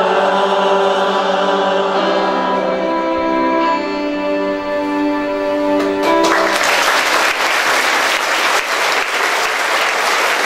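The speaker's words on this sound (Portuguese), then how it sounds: "Mais palmas para o Senhor." Church congregation clapping in praise during a Mother's Day Mass, starting under sustained music and swelling into loud dense applause that dominates the second half.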